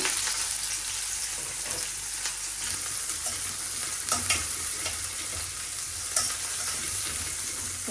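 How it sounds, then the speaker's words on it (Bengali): Dried red chillies and chopped onion frying in a pan, a steady, close, fairly loud sizzle with occasional crackling pops running throughout, and no voices. "শুকনো মরিচ দিয়ে দিলাম পেঁয়াজ কুচি"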